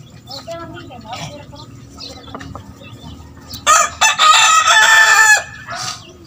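A rooster crows loudly and close at a small chicken farm, with a long, strained cock-a-doodle-doo, while hens cluck softly and steady farmyard noise sits underneath.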